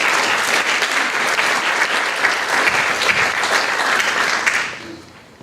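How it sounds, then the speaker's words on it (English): A large symposium audience applauds its guests, a loud, steady wash of clapping from many hands that holds for several seconds, then fades out near the end. "let's get a big round of applause for all of our guests that came here to be with us today"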